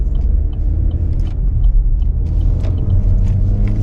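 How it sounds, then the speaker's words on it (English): A 2024 GMC Terrain SLE with front wheel drive accelerating, a loud, steady engine rumble heard from inside the car, building smoothly without a break. "And the front wheel drive picks up and gets going."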